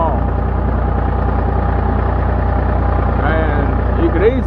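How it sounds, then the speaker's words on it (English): Small Ford 4630 tractor, an upper-90s model, runs while pulling logs, giving a steady, close, low engine drone with a few brief higher chirps near the end. "This is a small tractor."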